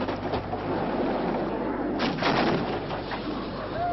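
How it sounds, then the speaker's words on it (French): Marine artillery shelling Cuban positions in Grenada, a few heavy booms and cracks rolling out over steady field noise, fairly distant, archival news footage with no talking over it. "L'artillerie des Marines ne cesse de pilonner ces positions cubaines."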